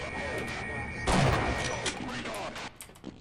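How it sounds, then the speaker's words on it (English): Grenades explode in Half-Life, a sharp, heavy blast cutting through steady ambient hum, followed by a few fainter pops and thuds as the noise dies away. "They're fucking grenades."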